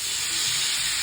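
Two lamb chops pan-fry with a loud, continuous close sizzling hiss that stays steady throughout the brief moment.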